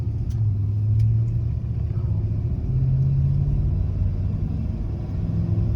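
A car engine pulls away in second gear during a drive to diagnose a misfire, giving a steady low rumble that swells slightly, heard from inside the car with no voices.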